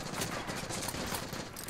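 Gunfire in a Call of Duty: Modern Warfare 2 campaign firefight: a dense, continuous rattle of automatic shots blending into a roaring wash, steady and fairly loud throughout the short burst.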